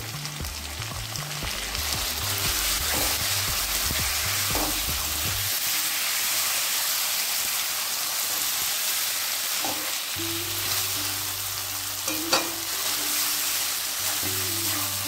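A ground paste of dried chilli, cumin, ginger, garlic and onion fries in goat fat, a steady loud sizzle running throughout, heard close, with a low tonal hum underneath at times and a few soft knocks.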